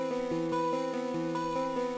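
A repetitive synth pluck melody in FL Studio, slowed by a halftime effect into a heavier, slightly smeared loop with regular note attacks, steady and alone.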